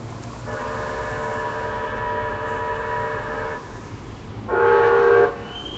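A train passes with a sustained horn blast lasting several seconds over a steady rumble, then a second, louder horn burst follows after a short pause, close and without talk.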